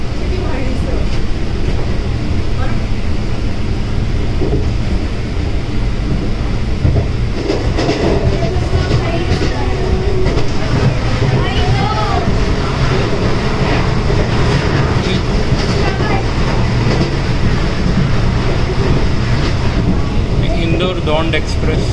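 Vistadome coach of a train on the Pune–Mumbai line running through the Khandala ghats, a loud continuous rumble and rattle of wheels and carriage heard from inside, steady throughout.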